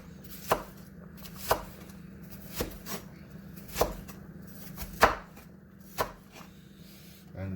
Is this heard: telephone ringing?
no